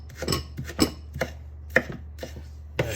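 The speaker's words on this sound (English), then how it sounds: "Chop those up a little bit finer." A knife chopping green onions on a board, about eight crisp, close taps in an uneven rhythm, no talk.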